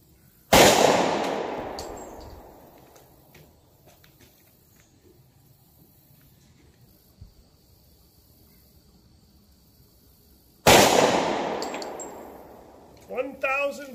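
Two loud gunshots from a .40 S&W pistol loaded with 180 grain bonded hollow points, fired at an outdoor range several seconds apart, each a sharp crack with a decaying echo.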